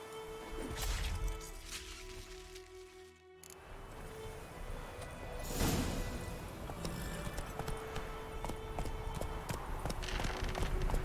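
Horse hooves clip-clopping in The Witcher 3 game, a steady rhythmic gallop close by with a brief drop partway through, then resuming and continuing to the end.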